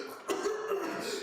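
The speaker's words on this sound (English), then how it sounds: "then you just start going into a fit of coughing" A short, harsh cough with some throat clearing, close and fairly loud, as if from someone acting out a fit of coughing from breathing in a sickly green fog during a tabletop role-playing game.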